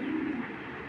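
A male racing pigeon gives a short, low, throaty coo, close and clear, with no other sound.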